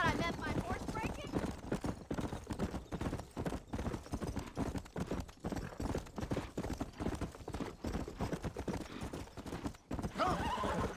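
On a ranch in the video game Red Dead Redemption, a horse being broken whinnies while steady clip-clopping hooves pound on, with a voice speaking over the animal throughout.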